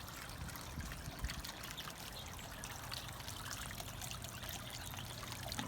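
Water trickles and splashes continuously into a fish-shaped bird bath fountain in a garden. The sound is quiet and even, a steady dribble with no voices.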